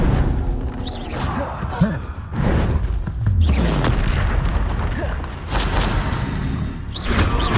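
Spell explosions and blasts from the video game Hogwarts Legacy, a loud run of heavy booms and dull thuds that keep rolling over each other across the whole stretch, with crackling bursts in between.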